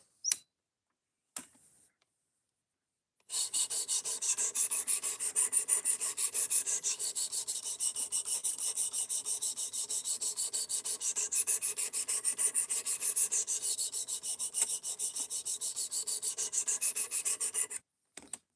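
A knife is honed on a whetstone in long, steady rasping strokes that run for about fifteen seconds after a couple of brief scrapes, close and moderately loud, with no talking.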